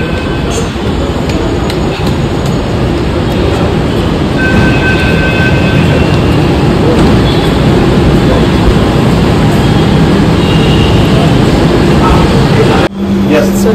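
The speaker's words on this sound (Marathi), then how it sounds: "मेट्रो आली आहे" Metro train arriving at a station, a loud steady rumble of the train and platform noise throughout, with a faint high tone and a sudden change near the end.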